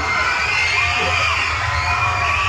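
A live concert crowd roars and cheers during a crowd check at a Filipino music event, a loud, sustained wall of shouting and screaming with no break.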